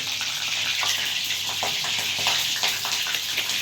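Loud, close sizzling of slit green chillies frying in oil, with sharp spluttering pops and stirring scrapes throughout, no speech.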